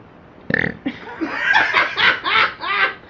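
A loud burp opens, followed by a run of snickering, rhythmic laughter bursts close to the listener.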